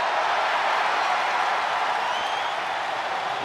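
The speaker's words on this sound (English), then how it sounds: "Listen to this ovation. The WWE Universe loves cheering on the EST." A dense, steady roar of crowd cheering and applause in the wrestling video game WWE 2K24 fills the whole stretch, loud and continuous with no pauses.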